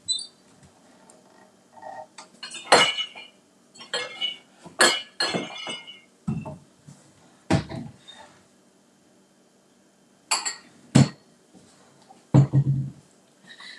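Glassware and dishes clink and knock in a kitchen during a cooking demo, a series of sharp scattered clatters and taps with pauses between them, fairly close, with no talking.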